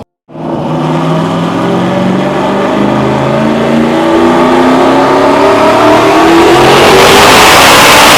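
A Cadillac CTS-V's engine revs hard on a dyno, a loud, sustained roar climbing steadily in pitch for about eight seconds after a brief silence, with no talking.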